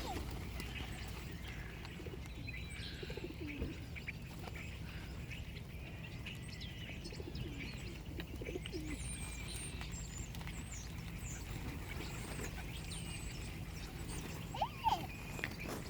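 Birds gather as they are fed along the Martinez shoreline, with scattered chirps and calls from several birds over a steady outdoor background and a few brief knocks near the end.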